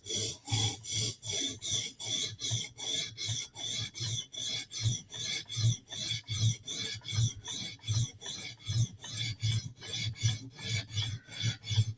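A knife blade is ground and profiled on a sharpening abrasive, giving steady rhythmic rasping strokes about two per second, close and continuous, with no voices.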